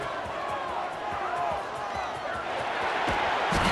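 A stadium crowd in the College Football 26 video game rises into a broad roar after a punt return, a continuous wash of cheering with scattered whoops and thumps underneath.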